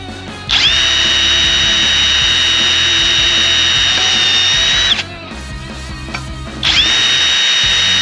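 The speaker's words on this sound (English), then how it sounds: "drilling, cutting, and then we're gonna get these, base holes screwed into here, or drilled into there." A power drill boring holes in a DIY skid plate, a loud close high whine held for about four seconds, a short pause, then the motor revving up again, with no speech.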